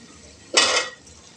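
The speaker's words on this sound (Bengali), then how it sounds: "আলু দিয়ে নাড়াচাড়া করে দিচ্ছে।" Boiled potatoes are stirred into spiced masala in a cooking pot, giving one short, close metallic scrape and clink of a utensil against the pot amid quiet kitchen background.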